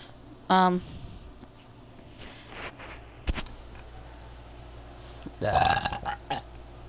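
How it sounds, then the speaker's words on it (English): A single loud, throaty burp erupts near the start of a quiet indoor stretch, with brief rustles and a short muffled vocal noise afterward. "I didn't mean to burp."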